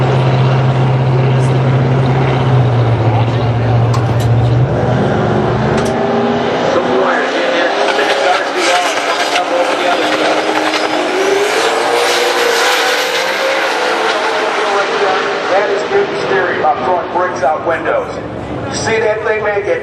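A fast Zephyr race car roars loudly down a racing track as announcers commentate over it. The engine pitch sweeps from a deep tone to a high scream.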